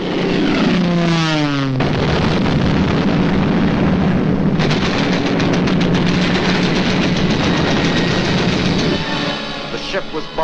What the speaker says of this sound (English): The ship was bombed and sunk with the loss of American lives.